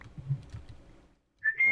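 A person whistles a short, sustained tone near the end, close and fairly loud, after a stretch of low murmuring voice and a brief pause.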